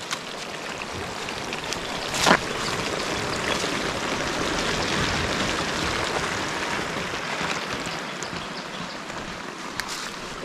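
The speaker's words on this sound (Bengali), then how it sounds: "খুব জোরে সোরে পানি আসতেছে।" Spring water gushes steadily from a pipe into a hillside field in the Alikadam area, a continuous rushing, splashing flow close by with one brief sharper splash, no voices over it.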